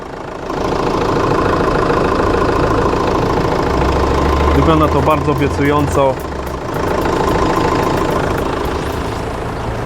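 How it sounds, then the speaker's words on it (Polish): A 2004 Renault Scenic 1.9 dCi 120 hp diesel engine idles steadily and close by, a continuous low rumble that runs under someone speaking through most of the clip. "Jeżeli się wsłuchać e, w pracę tego silnika, to nie dobiegają nas żadne niepokojące odgłosy."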